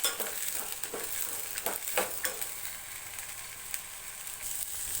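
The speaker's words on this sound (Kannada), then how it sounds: "ಅವರೆಕಾಳು ಸ್ವಲ್ಪ ಹೊತ್ತು ಒಗ್ಗರಣೆಯಲ್ಲಿ ಬೇಯಿಸ್ಕೊಳ್ಳೋಣ ಒಂದೆರಡು ನಿಮಿಷ" Fresh field beans (avarekalu) cooking in hot tempering oil for a sambar, a steady close sizzle with scattered scraping stirs and clinks of a spoon in the pan, no voices.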